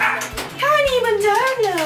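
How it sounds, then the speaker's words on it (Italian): Dogs in a Korean apartment bark and yip excitedly in quick overlapping bursts close by, with their sounds mixing into a steady background of noise. "I cani! Ovviamente."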